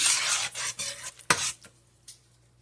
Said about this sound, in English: Get it a nice stir.